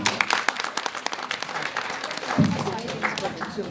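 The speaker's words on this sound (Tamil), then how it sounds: "எல்லாருக்கும் ஒரு கைத்தட்டல் கொடுத்துடலாமே." An audience at a Deepavali community event claps for children's performances, a scattered, moderately loud burst of applause mixed with a speaker's voice.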